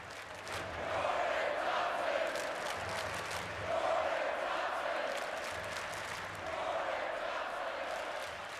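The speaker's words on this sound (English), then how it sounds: "You hear what they're chanting?" A large baseball stadium crowd at an LSU game chants in steady, swelling waves of massed voices, rising and falling in three broad surges over a continuous roar, heard from a distance through broadcast-booth ambience.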